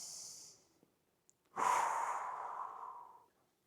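A person breathes deeply while holding a hip stretch, a short airy breath, a pause, then a long, loud, close exhale that slowly fades, with no talk.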